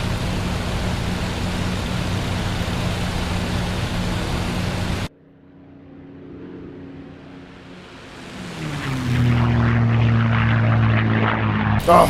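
P-51 Mustang propeller engine in a flight simulator game drones loudly and steadily, cuts out abruptly to a quieter hum, then builds back up to a strong engine roar.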